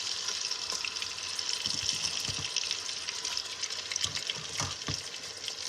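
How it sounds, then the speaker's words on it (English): Duck pieces sizzle steadily in melted butter inside an Instant Pot on sauté, a continuous close hiss with small crackles and occasional stirring knocks. "Let it start kind of sauteing, but yet start cooking too"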